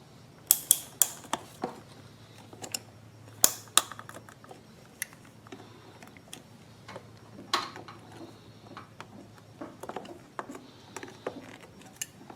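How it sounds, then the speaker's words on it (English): Metal hose clamp squeezed with pliers onto a generator fuel hose during a Genmax GM3300i extended-run fuel kit install, a series of sharp clicks and ticks, irregular and close, with a few louder snaps early on and no talking. "Just put the clamp onto the hose, then take a pair of pliers and squeeze down on it."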